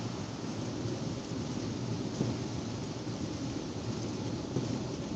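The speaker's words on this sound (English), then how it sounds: "it sounds like we're in a storm" Heavy rain and a thunderstorm heard from inside a car while driving, a dense, steady roar of downpour with faint low rumbles, no voices.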